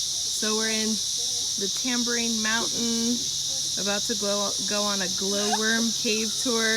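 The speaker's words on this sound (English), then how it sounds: "you hear the cicadas singing away right now" Cicadas sing in a loud, steady high buzz in a mountain forest on Tambourine Mountain, running throughout while a person talks over them.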